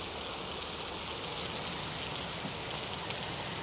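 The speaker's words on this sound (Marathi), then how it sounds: "पुण्यामध्ये सध्या जोरदार पाऊस पडतोय" Heavy rain pours down in Pune as a dense, constant hiss of drops striking surfaces, steady and unbroken throughout with no voices.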